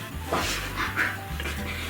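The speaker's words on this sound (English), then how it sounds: "There is a new dog in school." A dog in a school makes a few short whimpering, yipping sounds close by, with a low background hum and a hint of voices.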